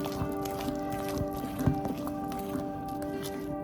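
Chili pakora batter being mixed by hand for several minutes, giving a continuous wet squishing and gentle slapping of thick batter, close and steady under a background hum.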